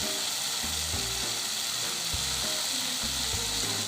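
Veg Manchurian sizzling loudly in a hot pan as chili sauce goes in, a steady close frying hiss with a few brief stirring knocks and no talk.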